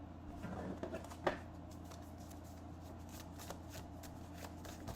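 Tarot cards are shuffled in a soft, quiet riffle, followed by a sharp slap as some spill, then scattered faint card patters.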